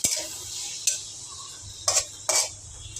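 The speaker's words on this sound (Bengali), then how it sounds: "আলুটা আগে ভাজি করবো লালচে করে" Potatoes fry in a pan under a soft steady sizzle, with a few sharp scrapes and clinks of stirring at irregular moments, close by.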